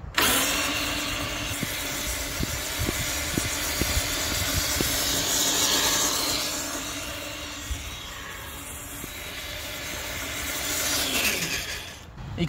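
Yikong YK4107 Nissan Patrol RC trail truck crawling in first gear, a steady electric motor whine with gear hum and faint ticking, close and continuous, rising and easing slightly as it moves.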